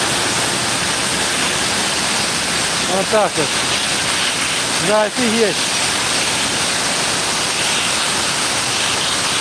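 A high-pressure water jet cleaning machine hisses in a loud, steady broadband spray throughout, with two people briefly talking over it in the middle.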